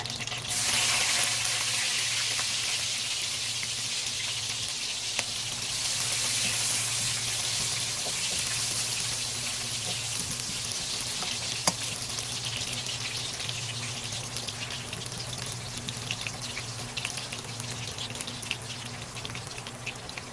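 Ginger sizzles and crackles steadily in a hot pan of oil, a continuous broad hiss with scattered pops, close and fairly loud, running alone without any voices.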